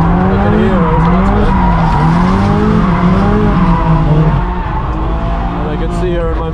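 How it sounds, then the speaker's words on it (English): BMW 335 drifting in second gear after a handbrake entry at a drift event, with a loud, close, continuous engine and tire squeal under someone talking. "So nice and basic, Dutch handbrake entry."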